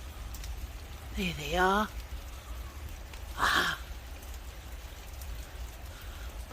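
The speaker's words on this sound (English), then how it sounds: "we're just gonna wait for the rain to stop before we strike" Steady rain falling outdoors, a constant soft hiss of drops through the whole stretch, with brief speech breaking in over it.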